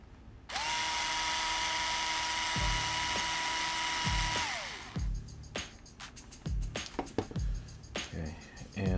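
Cordless power driver spinning out a small retaining screw on a Traxxas Slash LCG RC car: a steady high whine for about four seconds, then stops, followed by clicks and light clatter of handling parts nearby.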